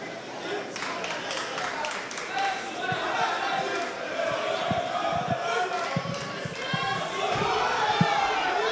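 An arena crowd roars steadily behind a kickboxing bout, a dense, continuous wash of shouting and cheering with scattered thuds of impacts, while a commentator talks over it throughout.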